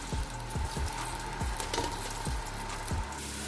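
Sliced onions fry toward golden brown in a pan for aloo rice, giving a steady close hiss of sizzling oil broken by several soft, dull knocks from stirring.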